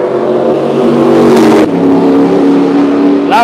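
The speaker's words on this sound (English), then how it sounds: "Loud cars, loud noises." Race cars revving loudly at Mondello race track, a strong, close engine roar sustained across the whole stretch with a sharp shift partway through as the pitch changes.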